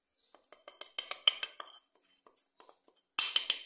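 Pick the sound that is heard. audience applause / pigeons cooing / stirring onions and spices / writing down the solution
stirring onions and spices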